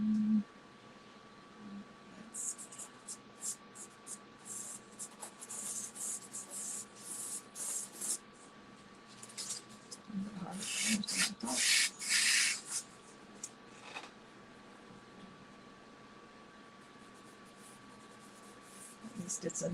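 Something being rubbed off a surface by hand, quiet scratchy strokes coming in uneven bursts, close and soft, with a faint steady tone underneath.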